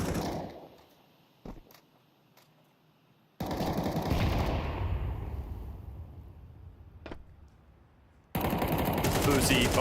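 Automatic gunfire from the Counter-Strike video game during a professional BLAST Rivals match, Astralis on the T side, bursts of shots loud and close in stretches, separated by quieter gaps.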